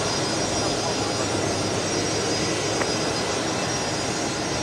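Steady broadband roar of jet engines at Brisbane Airport as a heavy airliner waits near the runway while an A220 departs, a continuous even rumble with no speech.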